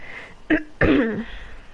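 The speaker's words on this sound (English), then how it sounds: "Sorry, clearing my throat" Two short throat-clearing bursts close to the mic, the second longer and rougher, with no talking around them.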